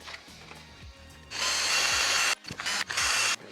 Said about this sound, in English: we'll drill a 3mm hole in it.